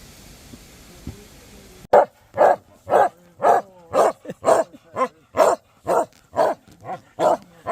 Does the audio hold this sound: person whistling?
no